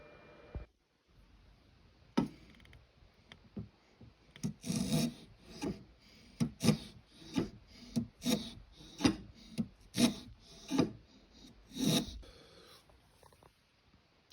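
Rhythmic rasping strokes of a hand plane shaving wood on a small ring box, about a dozen close, crisp passes in steady succession with no talking.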